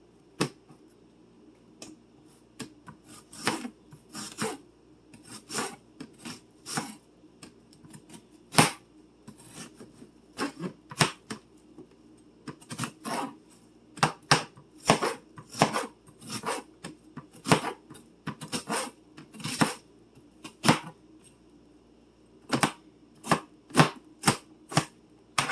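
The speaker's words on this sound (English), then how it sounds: "Now that onion we just minced doesn't have to be completely perfect." A knife minces onion on a board in quick, sharp chops that come in irregular bursts with short pauses between them. The chopping sounds close and crisp, with no talking.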